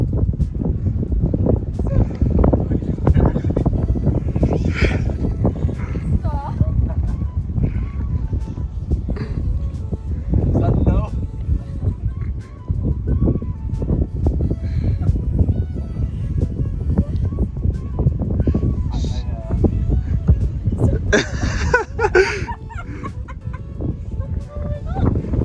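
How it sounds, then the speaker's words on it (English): Strong gusting wind buffets the microphone on a windy outdoor day during a proposal, a constant low rumble filling the whole stretch, with faint voices and a few brief higher chirps poking through. "obviously it was very windy, so I'm not sure how much you're gonna hear"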